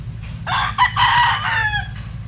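A Wilson's gray stag rooster crows once, fairly close and loud, its call broken into a few rising and falling segments over a steady low background hum.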